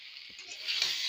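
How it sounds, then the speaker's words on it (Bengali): Whole potatoes fry in ghee for a potato curry, giving a steady close-up sizzle and crackle that swells slightly toward the end, with no talking. "গোটা আলুর দম হচ্ছে, ঘি দিয়ে ভাজছি"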